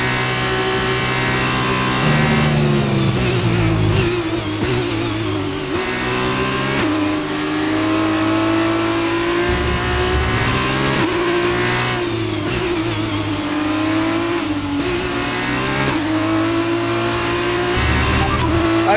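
Race car engines accelerate and rev continuously in a racing video game set in a wet, rainy race in Qatar, with loud sustained engine tones rising and shifting throughout.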